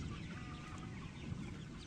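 Chickens cluck softly over a steady, noisy background, a faint and continuous barnyard murmur.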